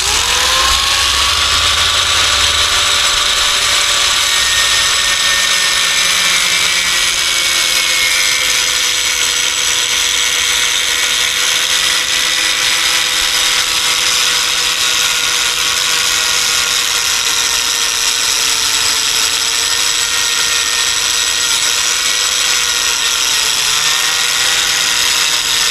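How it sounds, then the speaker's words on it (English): Angle grinder cutting through a plastic kayak skeg during a DIY retractable skeg build, a loud continuous whine with shifting pitch as the disc bites into the melting plastic, sustained alone for the full stretch. "Now I'm going to take the angle grinder, just make a quick cut, go from there."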